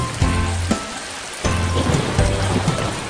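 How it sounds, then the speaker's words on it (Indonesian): Steady rain falls throughout, with brief low rumbles swelling in between, like distant thunder beneath the downpour. "Musim hujan pun akhirnya tiba."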